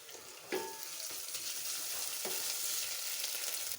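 Ginger garlic paste fries in a pan with a steady, close sizzle and crackle, broken by a few soft stirring knocks.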